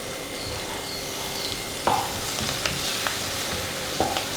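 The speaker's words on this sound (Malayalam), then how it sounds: "പൊടികളുടെ പച്ചമണം മാറുന്നവരെ നന്നായിട്ടൊന്ന് വഴറ്റി കൊടുക്കുക." Spice powder and coriander leaves sauté in a pan for paneer peas pulao, a steady close sizzle with occasional scraping stirs from a spoon.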